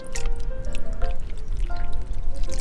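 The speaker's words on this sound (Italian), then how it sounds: "I cannelli vengono sciacquati nell'acqua di mare in modo che perdano la sabbia residua." Razor clams are rinsed and swirled in seawater, with close, uneven pouring, splashing and dripping sounds and a few brief clinks running through the whole stretch.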